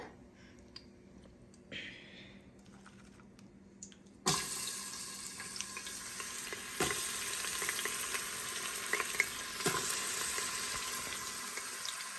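Onions dropped into hot oil with five cloves, a small cinnamon stick and a bay leaf in an Instant Pot for mutton biryani, starting from quiet clatter before a sudden loud sizzle that then holds as steady frying with scattered pops.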